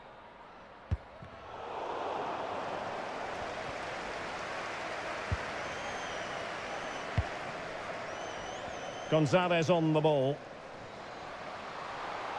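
Crowd in a FIFA 23 football match roars steadily after a goal, a broad continuous wash of stadium noise under a commentator's voice, with a brief louder surge near the end.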